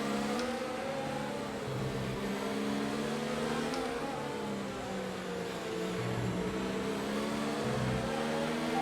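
Race car in F1 2019 at the USA Grand Prix, sliding on badly worn tyres: a continuous loud engine drone with wavering harmonic pitch that sags and rises as the car loses grip, steady and close with no talk.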